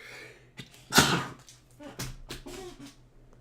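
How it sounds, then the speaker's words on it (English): A woman sneezes hard into a headset microphone, one sharp loud burst close up, followed by brief quieter rustling and muttered talk. "I just sneezed my headset off."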